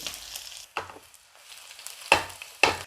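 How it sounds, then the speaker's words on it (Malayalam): Mustard seeds and small shallots dropped into hot oil in a heated pan: a soft background crackle broken by four sharp sizzling bursts as they hit the oil. "കുറച്ച് എണ്ണ ഒഴിച്ചു കൊടുക്കുക കുറച്ച് കടുക് ഇട്ട് കൊടുക്കാവേ കുറച്ച് ചെറിയുള്ളി"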